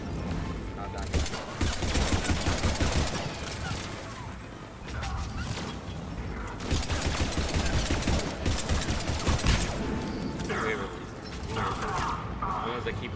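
Rapid turret gunfire and crashing impacts in the video game Mass Effect 3, dense and continuous bursts of shots with explosions, while a voice talks over the battle.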